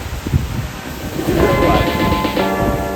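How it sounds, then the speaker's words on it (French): Heavy rain pours down during a drive, a dense, loud wash of noise with low rumbling underneath that swells partway through and keeps going. "Grosse averse."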